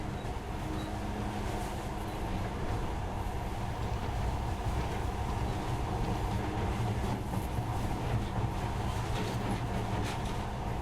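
Monorail train in the video game Metro: Last Light Redux, a continuous low rumbling ride with steady rolling noise and faint rattles, no voices.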